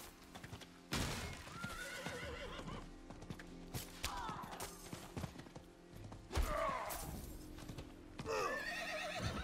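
A horse in the Diablo IV video game neighs repeatedly with loud whinnies, mixed with hoofbeat clip-clops and game effects in a dense, busy soundscape.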